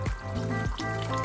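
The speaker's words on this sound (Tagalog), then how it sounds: "magdadagdag tayo mga suki ng konting tubig" Water is poured into shrimp sweet and sour sauce with a thin, gurgling trickle and rhythmic glugs, close and moderately quiet, with no talk.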